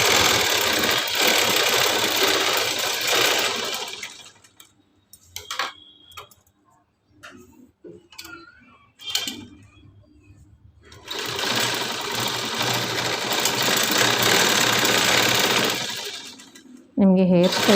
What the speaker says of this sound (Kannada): ಈಗ ಸೈಡಷ್ಟು ಸ್ಟಿಚ್ ಮಾಡಿಕೊಂಡು ನಾನು ವೇಸ್ಟನ್ನು ಕಟ್ ಮಾಡ್ಕೊತೀನಿ.